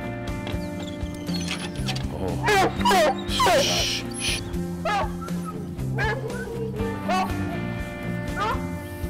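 Several hunting dogs bark and yelp excitedly in bursts while setting out after a mountain lion, mixed with whines, over a steady engine-like hum and some talking.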